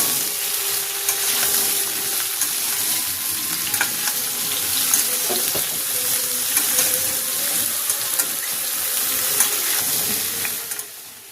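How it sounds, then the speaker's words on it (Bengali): Lightly fried potato and freshly added ridge gourd sizzle in a pan as they are stirred. A steady, close crackle carries repeated scraping and knocking of the spatula, with no voices. "এবার কেটে রাখা ঝিঙেটা দিয়ে দিচ্ছি, দিয়ে আবারও ভালো করে নাড়াচাড়া করে কিন্তু ভেজে নেব"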